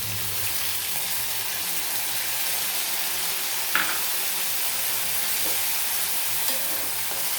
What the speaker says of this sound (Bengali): সবজিগুলো আমার খুব ভালোভাবে ভাজা হয়ে গেছে। এবার আমি এখানে সসটা অ্যাড করে দেবো।